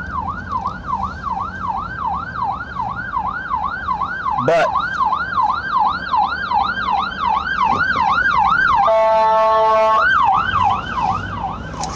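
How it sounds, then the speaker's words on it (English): An ambulance siren wails in a repeating rising-and-falling pattern, switching briefly to a rapid yelp before returning to the wail, with traffic noise underneath. "I need to move now because there's an ambulance behind me"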